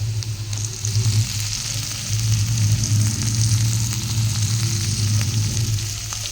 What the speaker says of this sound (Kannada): ಟೊಮೆಟೊ ಹಾಕಿ ಅದಕ್ಕೆ ಟೊಮೆಟೊ ಫ್ರೈ ಆಗಬೇಕು